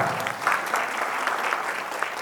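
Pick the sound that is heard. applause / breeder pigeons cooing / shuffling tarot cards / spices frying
applause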